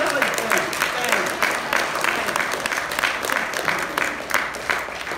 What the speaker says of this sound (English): Why don't we just give God a big hand clap and tell Him thanks?